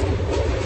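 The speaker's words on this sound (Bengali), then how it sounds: "যে আমাদের ট্রেন হাওড়া এক্সপ্রেস এসে পড়ছে" The Haor Express passenger train rumbles past close by, a loud continuous roar of wheels and carriages with low heavy rumbling throughout the short moment.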